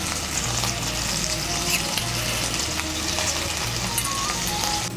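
Ground cumin, coriander and dry chilli pastes fry in oil for a paneer curry, a dense continuous sizzle with stirring scrapes throughout, close and fairly loud, no voices.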